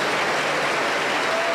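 A church congregation claps steadily for a women's choir, a dense, even wash of applause filling the hall with no speech over it.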